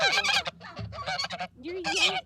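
Geese honk loudly and repeatedly at close range, harsh nasal calls in quick bursts with short gaps between them.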